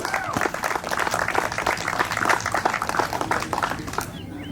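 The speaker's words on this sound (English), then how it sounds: "how about one big round of applause for East Texas in general?" Outdoor audience at a Lake Fork summer bass fishing tournament in East Texas gives a lively round of applause, many hands clapping with scattered cheers and whoops, tapering off at the end.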